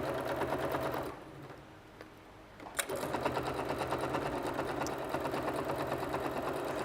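A sewing machine stitches steadily around the outside of a quilted Christmas panel, its rapid mechanical chatter briefly dropping out mid-run before resuming at an even, close pace.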